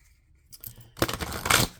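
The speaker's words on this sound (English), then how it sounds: "Let me just do a quick shuffle." A deck of reading cards is shuffled in a quiet room: after a few light taps comes a quick, crisp riffle of papery flicking and rustling, close and brief.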